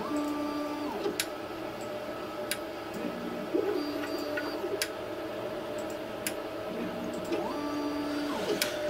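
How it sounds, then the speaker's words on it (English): A Two Trees Bluer Plus 3D printer probes its bed: stepper motors whine in repeated rising and falling tones, with sharp ticks as the probe touches down at each point. Close and steady, with no talking. "I'll then go around and probe the bed."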